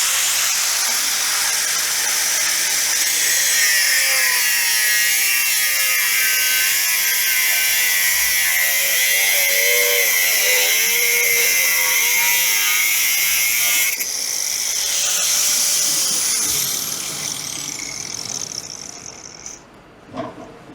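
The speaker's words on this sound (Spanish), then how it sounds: "Entonces, con el mismo disco vamos a cortar un material diferente" A cutting disc slices through aluminium, giving a loud, steady high-pitched grinding whine with a shifting tone for about fourteen seconds, then a brief change in pitch before it tapers off and spins down near the end.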